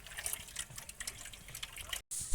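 Water from a tank splashes and trickles as it is filled for cattle to drink, with faint irregular drips and a brief gap followed by a louder rush at the end.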